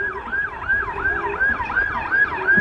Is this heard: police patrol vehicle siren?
yes